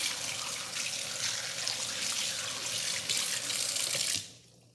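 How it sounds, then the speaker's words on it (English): A kitchen sink tap runs steadily while hands are washed under it, with a close, even rush of water that is cut off near the end, leaving quiet dripping. "we're gonna wash our hands because I'm gonna get our plastic wrap soon"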